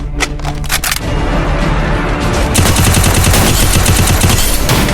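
Rapid, loud gunfire from the mobile battle game Free Fire, played on an Infinix Hot 16 Pro, starts as a few spaced shots and then becomes a dense, continuous stream of automatic fire, close and alone without talk.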